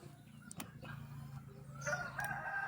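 A rooster crows nearby outdoors, a drawn-out, strained call rising near the end over a low steady background hum, with a few clicks and knocks beforehand.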